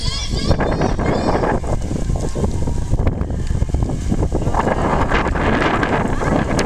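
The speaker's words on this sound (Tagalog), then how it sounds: "It's so breezy." Strong wind buffets the microphone in a constant roar, with a voice talking faintly underneath.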